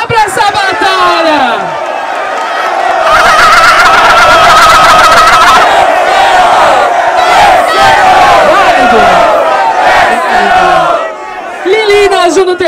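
Crowd at a Brazilian rap battle in Barueri roaring, cheering and shouting loudly and continuously, with a dense wall of voices and whistles and a brief dip near the end.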